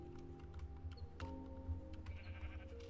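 A sheep in the Minecraft video game lets out quiet, wavering bleats over a low, steady background hum, faint and fairly close.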